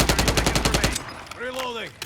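Rapid automatic gunfire from a Modern Warfare game (MW3 2023 or MW2 2009 comparison) rattles loudly for about a second in a dense burst, then gives way to quieter game sounds with swooping tonal effects.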